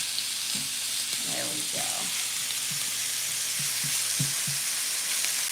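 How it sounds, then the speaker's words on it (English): Chicken pieces for southwest chicken wraps sizzle steadily in a hot pan while tongs spread them out, giving a few sharp clacks. A brief remark is spoken over the frying. "we'll spread them out, and we're gonna let them kind of saute up"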